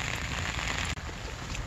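Rain falls on trees beside a river on a cold day, a dense, even hiss of countless drops close by, with no voices over it.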